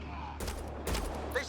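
Gunfire in the Mass Effect: Andromeda game, two or three sharp bursts of shots that stand out over a low steady background hum.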